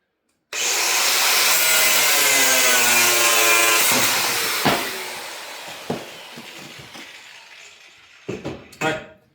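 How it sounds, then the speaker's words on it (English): An angle grinder cuts through steel rebar with a loud, sustained high-pitched whine that lasts several seconds, then drops into short, sharp clanks and scrapes as the bar is handled. "just grab a grinder is what I found the best way to cut rebar"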